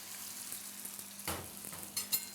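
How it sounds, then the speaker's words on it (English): Brik pastry filled with tuna and egg frying slowly in oil gives a faint, soft sizzle with light crackles and a couple of small utensil taps near the end. "Drop here, and you need to fry slowly."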